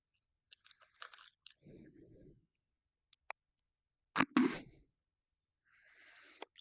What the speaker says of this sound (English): So I'll be munching on snacks. There'll be snack noises.